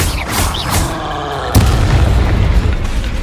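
The Confringo explosion spell goes off in the Hogwarts Legacy video game, a loud booming blast with a sudden sharp hit midway followed by a rumbling tail.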